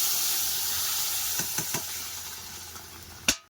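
Curry pours into hot oil tempered with reddened panch phoron, setting off a loud hissing sizzle with a few clinks of a utensil and a sharp final clatter before the sound cuts off.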